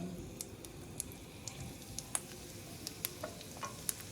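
Garlic cloves frying in hot olive oil and butter, a quiet continuous sizzle punctuated by small sharp pops and ticks spread irregularly across the few seconds.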